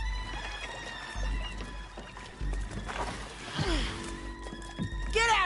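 Horse hooves clop and a horse whinnies in Red Dead Redemption 2, the hoofbeats soft and irregular beneath game ambience, with a whinny near the end.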